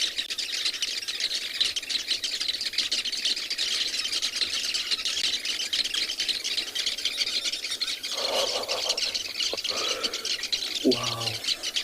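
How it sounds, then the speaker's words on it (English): Birds call over steady outdoor ambience on an African safari in South Africa, with chirps and squawks throughout and a couple of louder calls near the end. "Listen to the birds."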